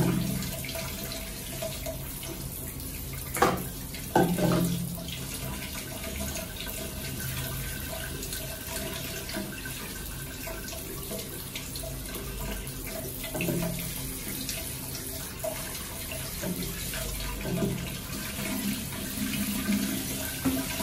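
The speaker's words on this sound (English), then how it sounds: "So I'm just gonna wash." Water runs steadily from a tap while aquarium filter material is rinsed during weekly tank maintenance, a continuous close splashing flow with a few brief louder sloshes, no voices.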